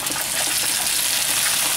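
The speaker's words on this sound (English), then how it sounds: "Let the oil become hot, then add and saute the garlic until it becomes golden brown." Garlic, onion and tomato sauteing in hot oil, a steady close hiss and crackle of frying that runs continuously without pause.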